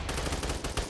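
Roblox gamepass guns fire in a rapid burst of sharp, loud shots close together, each crack smeared into a continuous gunfire rattle with no talking.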